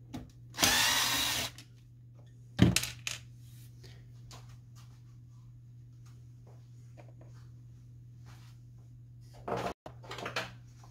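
An electric screwdriver whirs briefly while taking out a screw from an HP Officejet 6500 printer. Soft handling clicks and taps follow in a quiet room.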